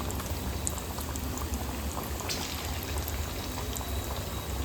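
Pork kebabs frying in oil in a wide pan over a medium flame, a steady dense bubbling crackle that stays even and close throughout, with no voices.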